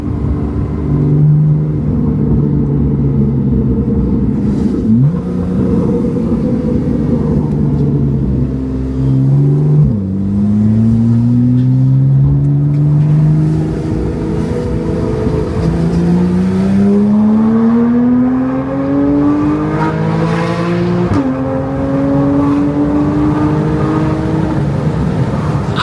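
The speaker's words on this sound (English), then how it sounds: "Give me a downshift. Jesus, sounds so amazing." A Porsche 911 fitted with a cheap aftermarket Alibaba exhaust revs and pulls through gears, loud and close, its engine pitch rising repeatedly then dropping sharply at each downshift or shift across a continuous roar.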